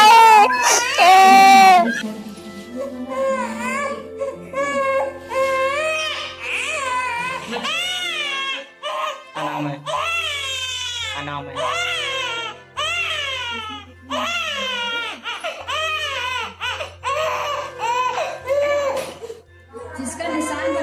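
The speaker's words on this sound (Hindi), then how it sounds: "मैं बहुत रोया, लेकिन उन्होंने मुझ पर बिल्कुल दया नहीं दिखाई।" A newborn baby cries after vaccination injections, loud, close, repeated wailing bursts broken by short gasps and whimpers, with a low background hum throughout.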